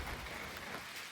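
Rain falls in a steady, soft patter on nearby surfaces, forming a continuous wash with no voices.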